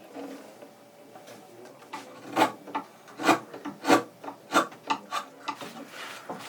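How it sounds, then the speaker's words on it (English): A chisel shaves a violin nut in a series of short, close scraping strokes, growing louder and more rhythmic midway, with no talk. "Every pass with the chisel brings the nut closer to its designated height"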